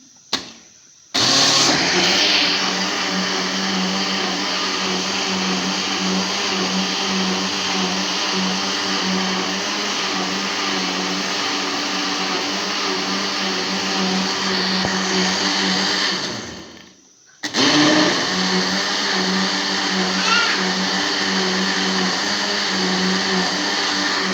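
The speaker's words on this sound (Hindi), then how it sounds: "अब हम इसको करते हैं और साथ में जूसर चलाते हैं" Electric juicer-blender whirring loudly and continuously while blending a mixture for kadhi, running about fifteen seconds, stopping briefly, then starting again, close and alone.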